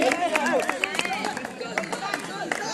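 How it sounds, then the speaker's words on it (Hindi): Spectators clap at a school kabaddi match, scattered sharp claps rising out of a lively crowd with voices chattering throughout. "आप लोग तालियां बजा करके लगातार"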